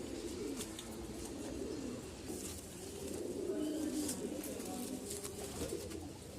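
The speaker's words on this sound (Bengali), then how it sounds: "আপনার এক জোড়া কবুতর দেখান দর্শকদের" Racing pigeons coo in a loft in Lalbagh, a steady low murmuring chorus of many birds, close and continuous, with faint background noise.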